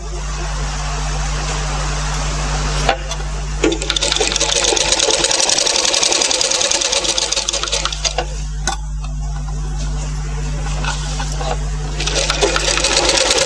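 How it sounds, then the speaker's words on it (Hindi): A sewing machine stitches along a garment neckline while piping is sewn on, running steadily and loud throughout with brief pauses and restarts, a constant motor hum beneath the rapid needle clatter. "चाहे तो आप पहले हाथ से कर लो और फिर बाद में मशीन की सिलाई आप डाल दीजिए"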